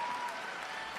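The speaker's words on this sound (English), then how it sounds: "Merci de l'applaudir encore." Audience applause at a Grand Prix de France figure skating event in Angers after the men's free skate, a dense, steady wash of clapping from a large crowd filling the whole second without pause.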